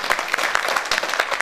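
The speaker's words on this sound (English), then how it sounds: "So could we give her a round of applause for the work she does?" A short burst of audience applause at an evening meet-and-greet event, dense, steady clapping from a crowd filling the whole moment without any talk over it.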